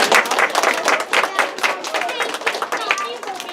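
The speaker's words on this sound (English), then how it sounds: "let's give kindergartners a round of applause for coming" Second-grade children clapping for visiting kindergartners at a school event, an energetic, uneven round of small hands applauding with lively chatter and voices mixed throughout.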